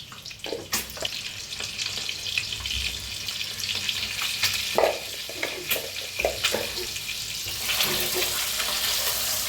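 Eggs frying in a pan with salt and turmeric for egg curry give a continuous crackling sizzle, with occasional stirring clicks and light kitchen clatter, close and fairly loud.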